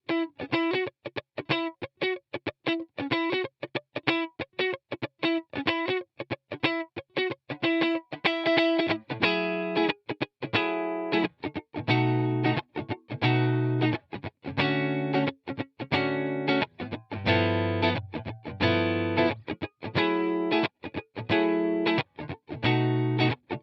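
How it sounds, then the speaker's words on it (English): A Fender Vintera Telecaster on its neck pickup plays dry through a Fender Super Reverb amp emulation, clean rhythmic picked notes and chords that start light and grow fuller and heavier, with no voices. "starting on the neck pickup, and I'm just going to play into an emulation of a Fender Super Reverb"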